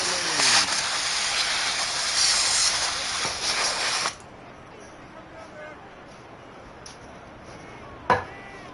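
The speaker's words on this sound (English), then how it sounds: "I gotta spray this controller." A PS5 game controller is sprayed from an aerosol can, producing a loud, steady hiss for about four seconds, followed by quieter background and a short sharp burst later.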